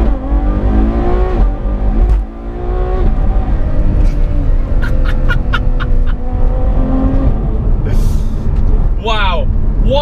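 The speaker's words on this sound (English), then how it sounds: "Have you heard those upshifts? It is a tone change. It is seamless." A Ferrari F12 supercar with shortened gear ratios roars close up as its engine climbs through several quick, seamless upshifts, each marked by a slight tone change, with someone talking over the drive.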